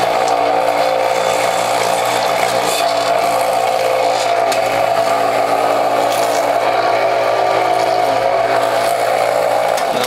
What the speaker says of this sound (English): Now my motor's working hard